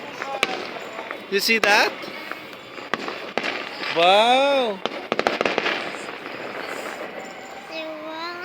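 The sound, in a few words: fireworks exploding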